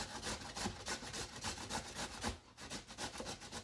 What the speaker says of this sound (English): I have to use the manual grater